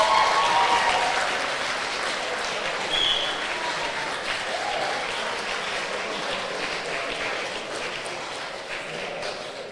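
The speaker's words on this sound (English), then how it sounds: "Round of applause for Charlotte." A crowd at a British women's weightlifting competition gives steady, sustained applause for a lifter, a dense clapping wash that holds for the whole stretch with slight swells.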